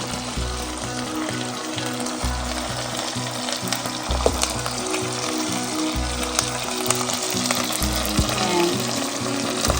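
Garlic and chili garlic sauce fry in a pan with a loud, continuous sizzle, while a utensil stirs and scrapes at a steady, repeating pace.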